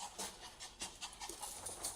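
Dog panting in a rapid, rhythmic series of short breaths, close and fairly faint, heard during a tense confrontation involving police at a property door.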